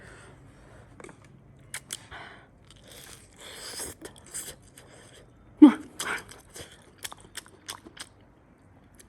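Crunchy bites and chewing of hot pan-fried dumplings wrapped with fish mint root, several sharp crunches spread over quiet moments, one loud close bite in the middle, with faint scattered kitchen noises.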